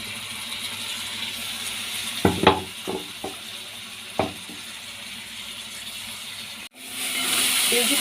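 Ginger garlic paste fries in a pan with a continuous soft sizzle and hiss, a few clattering stirs partway through, then a brief cutoff before the steady sizzling returns louder.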